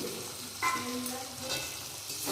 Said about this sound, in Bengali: এখন এই তেলের মধ্যে আমটা বেশ কিছুক্ষণ সিদ্ধ হবে